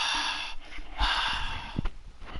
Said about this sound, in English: Swallowing and breathing into the mic.